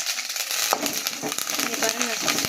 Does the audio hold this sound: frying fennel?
yes